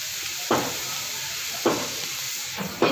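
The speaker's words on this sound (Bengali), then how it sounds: "এই আমি ডালটা বাগার দিচ্ছি" Dal being tempered in hot oil with spices, onion and garlic: a steady sizzling hiss throughout, with three sharp louder bursts of spattering as ingredients hit the pan.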